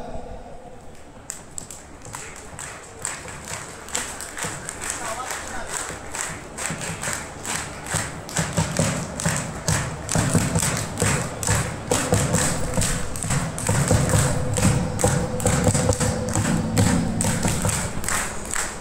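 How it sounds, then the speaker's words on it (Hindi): An audience at a Haldwani celebration event performs the 'panch taali' clap, a crowd of hands striking in tight rhythmic unison, repeated thuds starting sparse then building into a loud, steady pulse. "हमने एक नई ताली का इजाद किया है जिसे हम कहते हैं पंच ताली"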